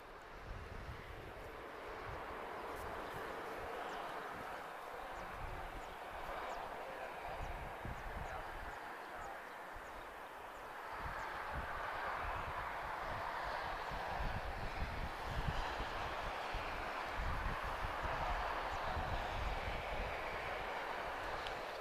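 A heavy aircraft at Lisbon Airport gives a continuous broadband roar, steady at first and then swelling louder around the midpoint, heard from a distance with wind-like rumble throughout.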